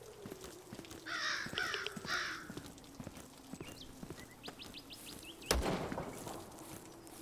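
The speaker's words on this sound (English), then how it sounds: "Birds flying off a body." In Zero Sievert, crows caw in a few harsh bursts as they fly off a body, with footsteps thudding rhythmically underneath and a sharp gunshot-like crack near the end.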